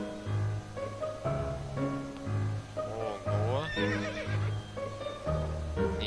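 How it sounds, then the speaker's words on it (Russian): A horse in the To the Moon video game neighs and whinnies in a rising and falling cry midway through, heard over steady game music with no talking. "О, коняшка."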